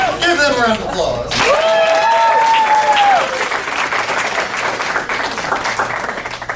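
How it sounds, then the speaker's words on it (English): A round of applause from the crowd at a martial arts school graduation, loud and sustained, with cheering and whooping voices rising over the clapping and slowly tapering off. "Give them a round of applause."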